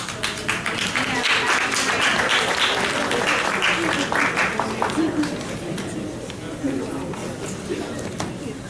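Audience at a band banquet applauding, a dense, steady patter of clapping hands that fills the room for several seconds, with voices under it.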